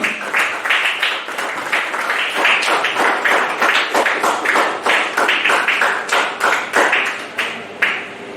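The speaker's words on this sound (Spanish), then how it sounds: "Den un aplauso fuerte al Señor" A church congregation claps loudly at the close of a sermon, a dense, lively burst of many hands with sharp individual claps standing out, holding steady and thinning slightly near the end.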